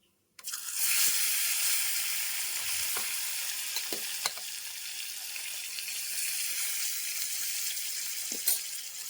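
Dried fish sizzling and frying steadily in a pan for a sustained stretch, with occasional faint clinks of a stirring utensil and no voices.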